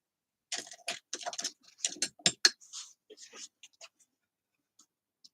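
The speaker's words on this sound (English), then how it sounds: "Just put your scissor right next to the score line and snip." Scissors snip card stock along a score line at a gift card workshop. A quiet, close run of crisp, irregular cuts tapers off into sparse faint ticks.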